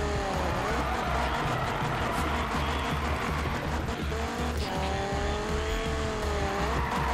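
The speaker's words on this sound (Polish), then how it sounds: "pojechałem na drift, nie samochodem do driftu" Car drifting in the Need for Speed 2015 video game, with a loud, continuous tire squeal wavering in pitch over a steady, rumbling engine drone, close and unbroken throughout, with no voices.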